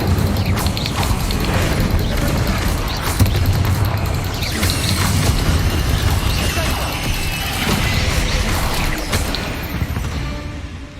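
A fire spell is cast in the video game Hogwarts Legacy, a dense, loud burst of crackling whoosh and booming impacts that stays busy and continuous throughout, with no voices.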